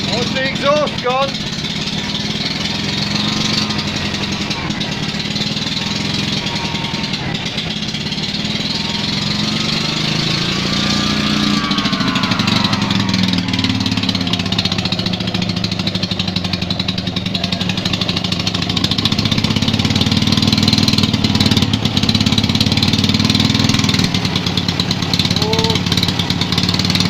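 Engine of a 1972 Invacar Model 70 running, a loud buzzy small-engine drone with uneven rises and falls in revs, close and continuous through the whole stretch.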